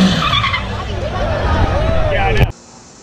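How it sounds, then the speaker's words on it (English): Tires squeal in a car burnout while the engine revs hard, loud and sustained for over two seconds with sweeping pitch, then cutting off abruptly to a quiet background. "Second burnout was much better"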